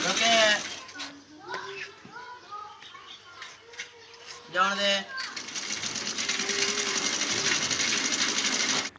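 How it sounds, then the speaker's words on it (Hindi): A voice speaks at first, then a sewing machine rigged to a bicycle starts up and keeps running with a steady, fast mechanical whir. "इन्होंने सिलाई मशीन के साथ साइकिल बांधकर एक ऐसा बेहतरीन जुगाड़ लगाया"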